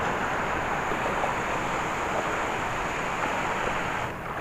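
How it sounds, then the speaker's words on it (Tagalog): Big ocean waves around a fishing boat at sea, a steady roaring wash of surf and wind noise that holds evenly throughout, loud and close with no voices. "lalaki ng alon"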